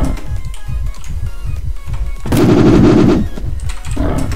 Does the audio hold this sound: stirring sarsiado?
no